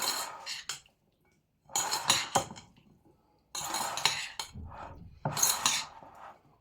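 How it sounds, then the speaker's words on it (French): Metal utensils scrape and clink against a bowl while crayfish curry salad is tossed with olive oil, coming in several close, irregular bursts separated by brief pauses, with no voices. "Là maintenant, on va bien mélanger."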